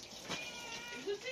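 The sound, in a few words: wild cat meowing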